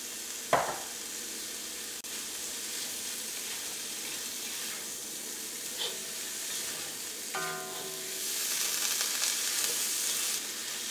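Chicken sizzles and fries steadily in a pan with coriander and mint leaves, with a stirring scrape near the start and a few brief clinks over the constant crackle.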